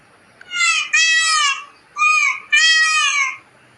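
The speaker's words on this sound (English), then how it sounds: "Peacock." Peacock calling: two pairs of loud, nasal, harmonic wails, each pair a short cry followed by a longer one, close and clear with no talk.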